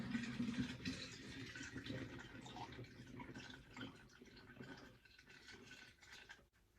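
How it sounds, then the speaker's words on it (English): Homemade vegan yoghurt pours and trickles into a flask for several seconds, with soft splashing and gurgling, fairly quiet and close, ending in a small knock. "I'm just gonna pour this into the flask."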